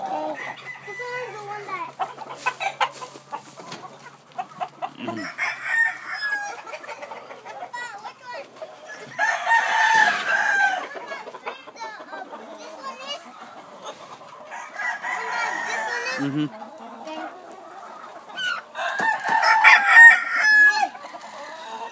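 Black Jap Asil and Peru gamefowl roosters crow repeatedly in bursts, with clucking between, while people talk nearby.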